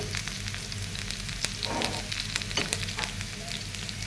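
Garlic sizzles in a pan of frying onion and ginger, a steady close crackle with small spits and stirring scrapes, no talk.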